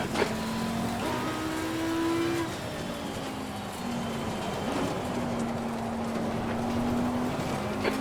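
Race cars in Assetto Corsa Competizione at Oulton Park, with engine drones rising and falling as cars pass an Audi R8 GT4 in a multiclass British GT race, a steady loud whine throughout.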